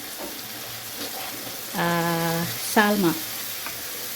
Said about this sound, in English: we are frying everything together like this